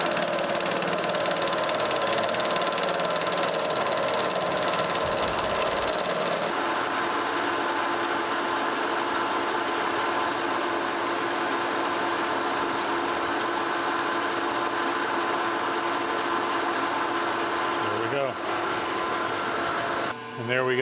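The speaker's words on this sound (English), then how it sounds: "I want to take my center off here because we are going to be parting that completely off." A metal lathe parts off a steel double T-nut bolt made for a metal planer's clapper box, running as a continuous loud mechanical drone with a grinding cutting tone and a brief change near the end.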